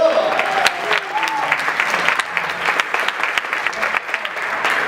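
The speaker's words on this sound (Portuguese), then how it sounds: "Aplausos para ela, por favor." An audience at an award ceremony applauds the mayor with sustained, fairly loud clapping from many hands. A voice speaks over it briefly at the start.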